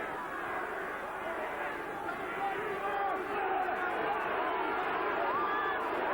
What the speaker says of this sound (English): the crowd's calling for a heave here, the New Zealand component of the crowd, which is very large